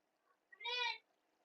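A single clear cat meow, short and close, rising out of near silence with faint murmuring around it.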